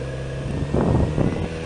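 Kawasaki Z900RS motorcycle, a 2018 model, running while ridden, with a steady engine drone and wind noise that swell briefly as the bike swerves across.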